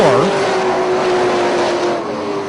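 Race cars roaring at Punta Gorda Speedway as they come out of turn 4: a loud, close engine drone with a falling then steady pitch, unbroken for the short stretch.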